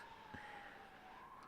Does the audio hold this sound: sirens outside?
yes